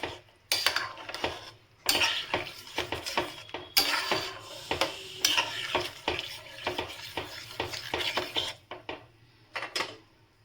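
A bitter lentil dal with gourd and drumsticks is worked in a pot on medium heat: irregular close scrapes, clinks and knocks of a spoon and lid against cookware over a faint simmer, no talk.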